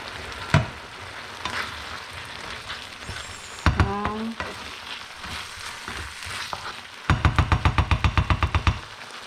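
Spices fry in a pot with a continuous sizzle, broken by a few sharp knocks and scrapes of stirring, and near the end a fast run of rhythmic metallic taps.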